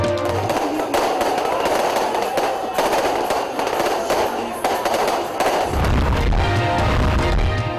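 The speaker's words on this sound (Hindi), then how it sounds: "कारकुनों की जानिब से शानदार आतिशबाजी" Continuous crackling fireworks set off by political party workers at a rally in Khushab, Pakistan, dense bursts of popping and bangs at close range, with faint crowd noise underneath.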